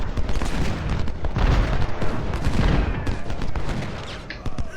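Artillery and musket fire crackle in dense volleys across a Civil War battlefield in Ultimate General: Civil War, with rolling booms and rapid overlapping shots filling the whole stretch.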